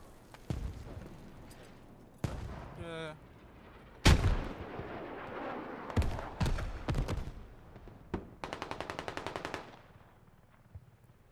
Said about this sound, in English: Deseng gets taken out by a mortar.